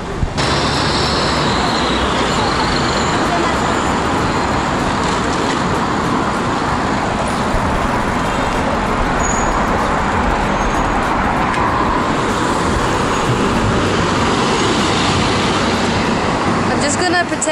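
Steady, dense street traffic in Shanghai, with cars passing continuously in a loud, constant roar and broadband wash, with some voice-like activity mixed in.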